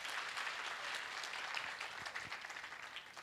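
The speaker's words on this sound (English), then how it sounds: "Let's clap for these gentlemen and ladies" Workshop audience at a mental health awareness event clapping for the participants, a soft, steady patter of applause heard from a distance, with no speech over it.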